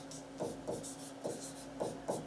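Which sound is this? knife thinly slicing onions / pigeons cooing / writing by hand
writing by hand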